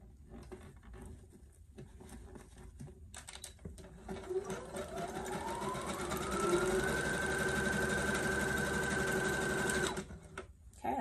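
A sewing machine stitches tulle gathers on a mermaid prom gown, its motor humming up to a steady fast whir that runs for several seconds before stopping, with no talking.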